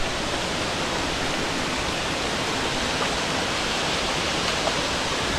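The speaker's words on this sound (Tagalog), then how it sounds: "Ito na yung unang layer ng falls." Tarias Falls, the first tier of a waterfall, pours in a constant, dense hiss of rushing water, steady and close with no voices or breaks.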